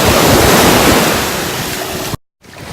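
Sea waves wash in at a Phuket beach in Thailand, a loud, broad hissing surge with wind buffeting the microphone, fading a little before a sudden brief dropout.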